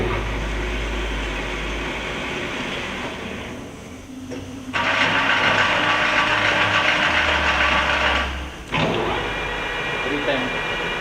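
A Leblond-Makino engine lathe runs at 109 RPM with a steady, loud mechanical drone and whirring, its tone shifting as speed changes, with a brief drop in level partway through.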